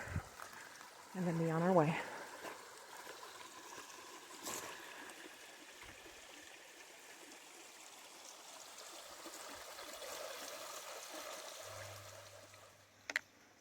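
A creek flows beside a hiking trail on the Walls of Jericho hike, giving a soft, steady rushing wash throughout. A voice speaks briefly near the start.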